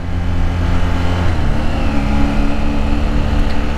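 A Honda VF500F Interceptor motorcycle engine runs steadily during a test ride, a close, even drone with a slight shift in pitch partway through, with no talking.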